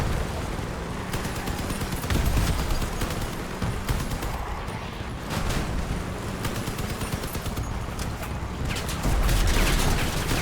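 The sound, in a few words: vehicle-mounted machine guns firing in Crossout video game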